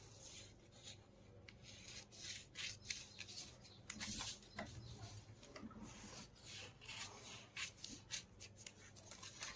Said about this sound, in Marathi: आता कटोरी कशी कापायची, इथून सुरुवात करायची खालच्या पॉईंटपासून